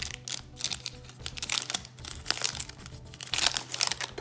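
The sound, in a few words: unwrapping Pokémon card booster pack foil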